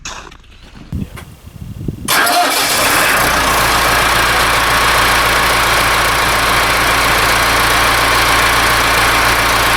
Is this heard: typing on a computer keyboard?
no